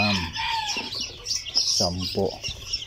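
Silkie chickens and chicks in a backyard coop cluck and cheep close by, with high chick peeps over hen clucks and brief overlapping calls.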